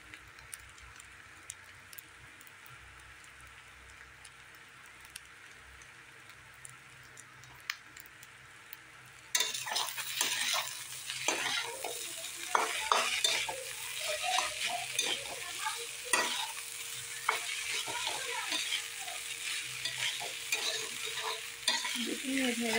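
Rice cooked like pulao with Sunrise garam masala, stirred and fried in a pan: a quiet start, then from about the middle a busy, close sizzle with repeated spoon scrapes and clicks.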